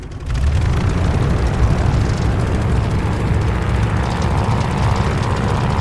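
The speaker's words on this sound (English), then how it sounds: "do an engine run-up. Make sure she doesn't blow out." A propeller aircraft engine in Call of Duty: Vanguard roars through a run-up, a loud, dense, rumbling drone that starts abruptly and stays steady and close throughout.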